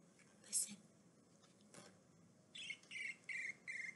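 A few short cricket chirps in quick succession, faint, over a quiet hissy background, with a brief soft rustle earlier.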